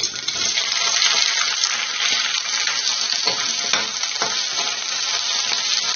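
Green chillies frying in oil in a pan, a steady loud hiss of sizzling with a few sharper crackles and pops throughout, no voices.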